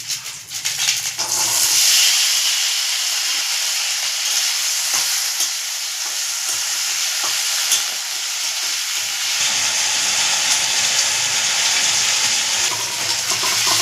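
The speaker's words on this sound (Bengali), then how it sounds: "ধোয়া আলু আছে সেইটা দিয়ে দিচ্ছি।" Potatoes frying in hot oil with panch phoron and dried red chili give off a loud, steady, close sizzle and crackle that runs unbroken throughout, with no talking.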